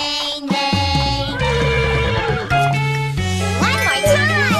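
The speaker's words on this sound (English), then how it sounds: "the horse says. Neigh, neigh, neigh" A horse neighing and whinnying, loud and close, with layered tonal calls over a steady musical backing and a light jingle, sounding like a children's farm-animal song.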